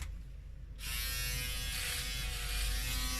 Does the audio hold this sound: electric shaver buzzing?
yes